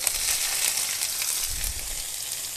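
Multicoloured bell peppers and red onion frying in olive oil in a pan, a steady close hiss of sizzling with a brief low thump partway through.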